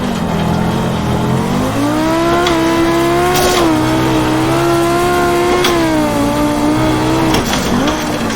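A Group B Audi rally car in the AMS1 racing game, its engine held at high revs on a gravel hillclimb, droning loudly with pitch rising and dipping through gear changes and sideways slides.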